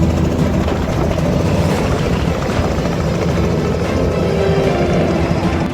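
A helicopter carries a groom to his wedding in Kurana village near Bhopal. Its rotor and engine make a loud, close, unbroken thrumming roar throughout, with no talking.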